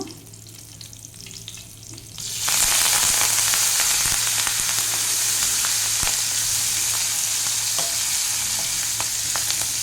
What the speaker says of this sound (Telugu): ఆవాలు జీలకర్ర ఇంగువ కొద్దిగా మెంతి పొడి ఎండుమిర్చి అలాగే పచ్చిమిర్చి కరివేపాకు వేసుకుంటున్నాను